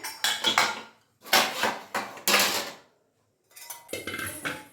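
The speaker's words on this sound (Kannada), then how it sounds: "ವಿಷಲ್ ಹೋಗಿದೆ ಈಗ ವಿಷಲ್ ತೆಗಿತಿದ್ದೀನಿ" Pressure cooker whistle being lifted off after cooking spinach and lentils, several close metallic clanks and rattles in short bursts with pauses between, no talking.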